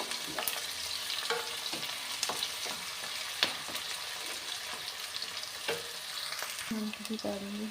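Sliced onions and leafy green vegetables fry in a pan while being stirred constantly, a loud close sizzle broken by repeated scraping clatters of the spoon, with no talking.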